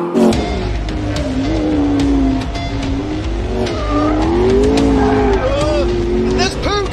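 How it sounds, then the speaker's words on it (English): A car driven hard through a desert with its wheels spinning in sixth gear gives a loud, continuous engine roar with rising and falling pitch and tyre scrabble, close and dominant, with a shout over it. "It's spinning its wheels in sixth!"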